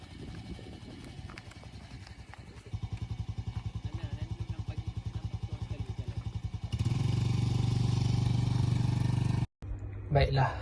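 A motorcycle passing through an area in a staged road-accident simulation, its engine throbbing in a steady rapid pulse that swells louder and denser before cutting off abruptly, with a voice talking early on.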